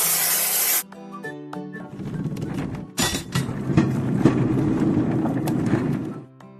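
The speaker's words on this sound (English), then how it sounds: "Look at the cloud and choose the spray gun cap of the same color." Cartoon spray gun spraying paint on a toy train, a loud hissing burst of spray, then cartoonish clunks and a longer rushing spray sound with no talk.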